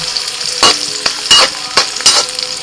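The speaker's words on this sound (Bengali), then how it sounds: "কড়াইতে সাদা তেল দিয়েছি, ওর মধ্যে আমি দিয়ে দিচ্ছি কাজু আর কিশমিশ" Cashews and raisins fry in white oil in a wok, with a steady sizzle broken by four or five sharp bursts of stirring and scraping, close and fairly loud, no talking.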